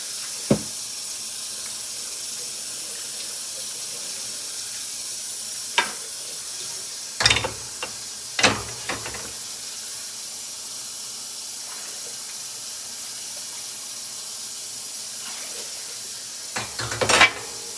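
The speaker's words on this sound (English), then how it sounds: "A little dishes ASMR." Dishes being washed with a squirt of soap under a steady watery hiss, with a few sharp clinks and clatters of crockery scattered through, loudest near the end; no voices.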